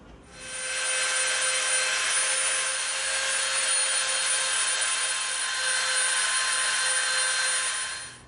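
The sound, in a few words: Dremel rotary tool tapering EVA foam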